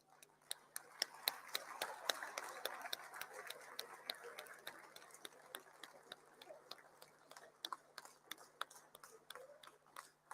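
Applause from an audience at a national results ceremony for school-leaving certificates, a steady patter of many clapping hands with sharp individual claps, fairly quiet and distant, swelling early and then thinning out over about ten seconds.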